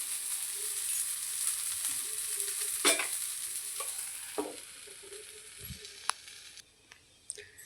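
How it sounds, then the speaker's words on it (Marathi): Thalipeeth flatbread fries in oil on a pan, its second side cooking with a steady, close bright sizzle, with a few soft spatula scrapes and taps over the crackle. "आता आपण याला आता आपण परत थोडंसं तेल टाकून याला दुसऱ्या साईडने होऊ देऊ"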